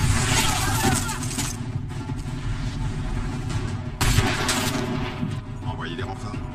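Gunfire amid a tense armed standoff, dense continuous bursts under a heavy rumbling background, a sharper jolt near the middle, with voices mixed into the din.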